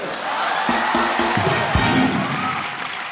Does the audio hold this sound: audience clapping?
yes